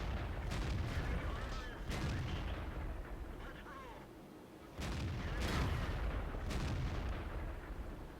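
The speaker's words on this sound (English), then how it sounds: "Artillery is still trying to kill Tog, and failing miserably." Artillery fire in World of Tanks battle gameplay, several heavy booming blasts with rumbling tails at uneven intervals over a constant low battlefield rumble, loud and close.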